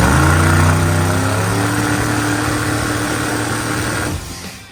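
A turbocharged CSU 750 engine in the Farm Truck, a drag-racing pickup, runs loud and steady with a heavy, even drone, then drops in level near the end. No talk is heard.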